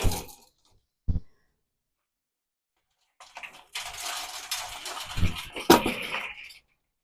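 Metal pans scrape and clatter as they are worked loose and pulled out of a rabbit enclosure, after a couple of brief knocks and a pause.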